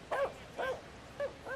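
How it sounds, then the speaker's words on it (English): Dogs on a baseball field at an MLB game give four short, close barks and yips, spaced unevenly across a moment. "dogs seem to be rather reluctant to go in the direction in which they're being ushered right now."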